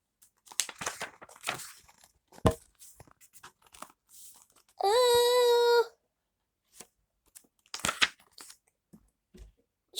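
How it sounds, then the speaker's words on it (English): Crunchy chewing and biting during a read-aloud of a children's picture book, in separate crisp bursts with pauses, and a long tonal voiced sound in the middle. "Chew."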